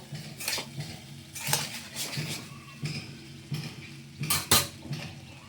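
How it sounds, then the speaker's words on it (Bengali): Leftover rice frying in a pan, a metal spatula repeatedly scraping and clinking against the pan in irregular strokes over a faint background sizzle. "এইভাবে 2 মিনিট ভেজে নেব।"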